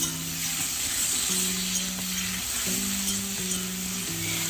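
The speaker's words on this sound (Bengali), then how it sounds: "প্রথমে আমি টমেটো দিয়ে দিচ্ছি। টমেটোটা দিয়েও একটু ভেজে নিতে হবে।" Tomatoes and onions frying in oil in a pan for an egg dish, giving a continuous close sizzle with soft stirring scrapes throughout and no talking.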